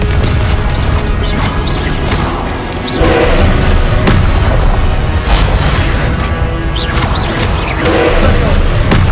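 Loud, dense game-combat din from Hogwarts Legacy with booming Confringo fire-spell blasts and crashes layered over continuous rumbling effects and music, close and sustained across the whole stretch.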